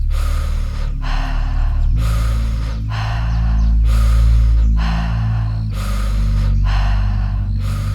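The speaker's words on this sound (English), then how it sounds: "It'll be 4 rounds of deep breathing in and out the mouth like this" Deep breathing in and out through the mouth during a breathwork exercise, four slow rounds of long airy inhales and exhales in a steady rhythm, close and loud over a low musical drone.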